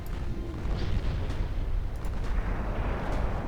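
Heavy 8-inch naval guns of a 1950s US warship fire in a naval battle game, with deep booming blasts and rumbling low-end thunder over a steady loud background.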